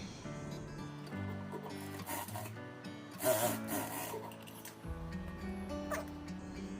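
Sewing machine stitching cloth for a straight-cut top, a close, rhythmic mechanical whirr in short runs with pauses, faint voice under it.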